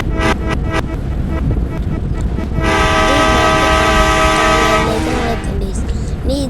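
A train rolls along a road in the mobile game Indian Bikes Driving 3D, its steady horn tones sounding loud and close for several seconds over game noise.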